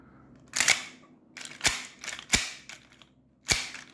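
A Marushin M1887 lever-action shell-ejecting shotgun replica, with no gas loaded, is racked through its lever cycle, giving four sharp, close mechanical clacks spaced unevenly over a few seconds.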